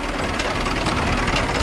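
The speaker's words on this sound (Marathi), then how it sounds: "आमचा ट्रॅक्टर चालवतो इथे" A decorated tractor idles during a Hanuman temple restoration procession, its engine giving a steady, low, rumbling chug close by, with no voices.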